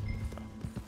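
A couple of muffled hoof clops land over a low steady hum, brief and close, like a horse stepping at a walk, in the video game Red Dead Redemption 2.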